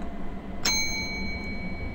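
A single bell in the video game Deep Sleep rings once with a bright metallic ding, then leaves a thin tone fading over a low background hum.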